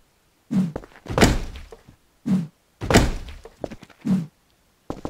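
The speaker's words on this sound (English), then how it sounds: "there's definitely some gunfire going on around here" A series of heavy, booming gunshots in the video game Rust, spaced unevenly a second or so apart, loud and close with short gaps of quiet between them.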